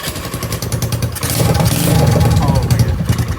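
Honda Navi motorcycle fitted with a cheap eBay slip-on exhaust sputtering to life, its small engine catching after about a second and settling into a steady, loud, close idle with rising intensity.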